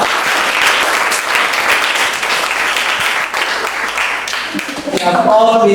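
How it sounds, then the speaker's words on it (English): An audience at an International Mother Language Day event breaks into sustained, dense applause that fills the room at a steady level, with a voice starting to speak over the final moments. "Give yourself a round of applause"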